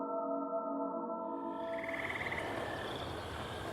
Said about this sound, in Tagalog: laking gulat ko nang marinig ang malalakas na huni ng mga kuliglig